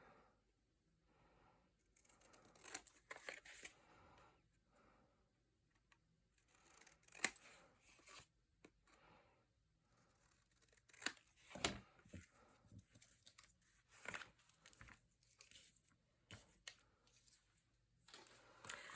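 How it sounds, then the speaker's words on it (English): Scissors snipping through paper along drawn lines for a small card box, soft and close, in intermittent bursts of crisp cuts with quiet gaps between, no voices. "I'm going to come in with my scissor and I'm going to cut on the inside edge of these lines that I've cut"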